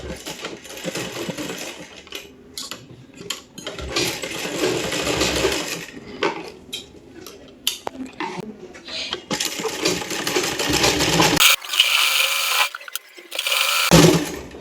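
Sewing machine stitching the side seam of an A-line suit, with loud close bursts of rapid mechanical whirring broken by brief stops and clicks, ending in a few short spurts.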